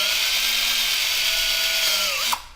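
A power drill bores a pilot hole into a wooden wall stud while mounting a TV, its steady whining motor running continuously and loud before cutting off abruptly near the end.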